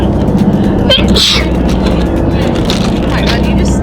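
A person sneezes once, sharply and close, outdoors amid steady background rumble at a glacier stop on an Alaska cruise, with people talking and reacting around it.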